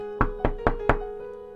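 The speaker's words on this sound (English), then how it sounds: "Gary Goose knocked on the rock with his wing." Knocking on a rock in a children's story, four evenly spaced hollow knocks in quick succession, close and clear, with a faint tonal hum behind them and no talking.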